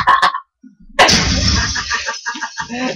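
A loud burst of video game gunfire from Call of Duty, a sharp blast followed by a sustained noisy roar and a few quicker shots, close and heavy.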